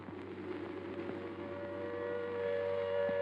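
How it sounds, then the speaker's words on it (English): A distant air raid siren drones with a steady, sustained tone over a low rumbling background, swelling slightly louder toward the end. "the air raid siren wails again"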